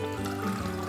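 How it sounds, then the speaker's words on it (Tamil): Water pours briefly over soaked chickpeas in a pressure cooker, making a short, continuous splashing trickle heard close up. "கொண்டக்கடலை ப்ரெஷர் குக்கரில் மாற்றி தேவையான அளவு தண்ணியை ஊற்றி"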